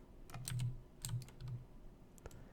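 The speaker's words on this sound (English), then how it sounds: "I'm going to type in the word force" Scattered keystrokes on a computer keyboard, a few soft, close taps spread unevenly over a quiet background, with no talking.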